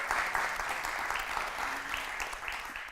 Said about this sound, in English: clapping is in order, applauses are in order